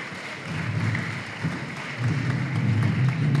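Audience applause for the Liceo Juan Arroz students at a Valparaíso school debate event, a steady wash of clapping that swells slightly toward the end, moderately loud with no voices over it.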